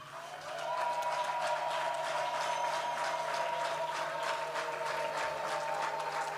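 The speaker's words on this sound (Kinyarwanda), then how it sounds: "hanyuma abagabo bakome mu mashyi" A church congregation claps hands steadily while women ululate in long, high trilling tones, a dense sustained wash of applause and voices.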